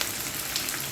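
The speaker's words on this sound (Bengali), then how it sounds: "এখন রসুনগুলো আবারও নেড়ে চেড়ে দিচ্ছি" Garlic fries in a pan, giving a steady, even sizzle that stays close and continuous through a very short moment.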